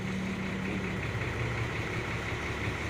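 A car engine that has just been started idles and is given a gentle rev, a steady, close mechanical hum with a slight rise in pitch partway through, with no talk.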